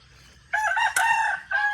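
A rooster crows loudly and close by in short bursts, with faint clucking of chickens in the background.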